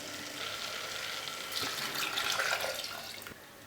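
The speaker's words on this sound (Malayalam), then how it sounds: "ഇതിലേക്ക് എടുത്തു വച്ചിരിക്കുന്ന 1/4 കപ്പ് വെള്ളം കൂടി ഒഴിക്കാം." Water is poured into a pressure cooker holding pumpkin for a payasam, a short close splashing trickle that swells briefly before tapering off.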